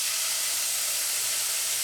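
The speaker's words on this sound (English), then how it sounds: "And in go the tomatoes." Tomatoes drop into a hot pot of sautéed garlic for pizza sauce, setting off a loud, steady sizzle and hiss that holds evenly throughout with no voices over it.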